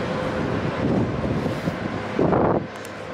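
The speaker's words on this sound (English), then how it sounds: "It's windy." Wind blows outdoors, a steady broadband roar buffeting the microphone with a stronger gust near the end, loud and continuous with no voices.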